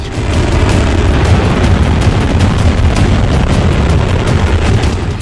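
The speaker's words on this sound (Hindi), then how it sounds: "ऐसे हथियार का धमाका हुआ है जो दुनिया के किसी कोने को दहला सकता है" A continuous, loud rumbling roar of a weapon explosion blast, dense and sustained throughout with no pauses.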